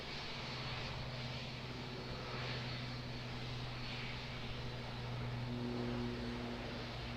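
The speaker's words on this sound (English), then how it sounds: "our A321neo in the all black livery, heading off to Sydney" Airbus A321neo in all-black livery departing Auckland for Sydney, a steady broad engine roar with low droning tones holding at a constant level throughout, moderately distant with no voices.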